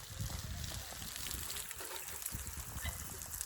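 Water poured over a house wall to cure fresh plaster runs and trickles down the surface in a steady, close wash, with a few soft low thumps underneath.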